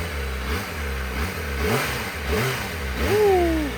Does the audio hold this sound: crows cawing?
no